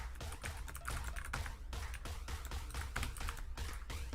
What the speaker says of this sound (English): my typing is whack tonight